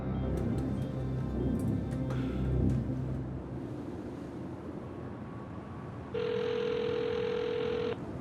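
A telephone ring, a steady electronic tone lasting about two seconds near the end, heard over a constant low background rumble with faint ticking and no voices.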